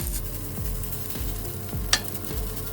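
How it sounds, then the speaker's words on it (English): Cooked rice frying in bacon grease for shrimp fried rice, a steady close sizzle with repeated soft scraping pats as a spatula flattens it in the pan, one brief sharp clink partway through. "We're gonna throw that rice right on top of the bacon grease."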